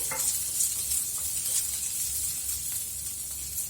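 Medium-sized, roughly chopped onion pieces sizzle steadily in a hot pan of oil, a close, continuous frying hiss with faint stirring scrapes and no talking.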